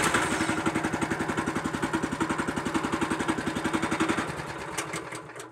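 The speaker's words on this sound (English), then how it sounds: "Weber's got solutions with the CR6 reversible vibratory plate compactor" A Weber CR6 reversible vibratory plate compactor runs close by, its engine thumping in a fast, even pulse that softens and slows near the end as the machine winds down.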